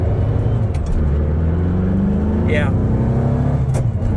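A car engine fitted with China 40 IDF carburetors runs loud and close, its steady droning rumble broken by a sharp brief pop near the end, while someone talks over it.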